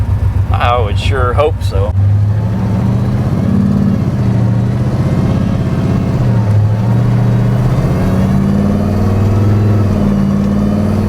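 A Hellcat-swapped 1972 Dodge Demon fitted with a supercharger drones loudly from inside the cabin, its engine note wavering with throttle changes, while a person speaks briefly over the start.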